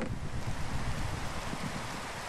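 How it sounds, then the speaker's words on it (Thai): Steady rain falls with a low rumbling wash of thunder in a Minecraft survival game set on an acid-water island, a dense continuous roar filling the background without voices. "ฝนตกฟ้าร้องน่ากลัวมากค่ะ"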